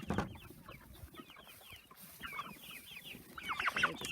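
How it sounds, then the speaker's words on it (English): Buff Orpington and Americana chickens in a pen cluck and chatter, several birds overlapping in busy, uneven calls over low rustling, growing louder near the end. "These are Buff Orpingtons and Americanas, and I think there's a blue cochin in this pen"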